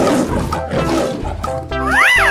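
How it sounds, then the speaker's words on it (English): Stylized lion roar in a 3D animal slide video game, one swelling roar near the end following busy game music and effects. "Lion."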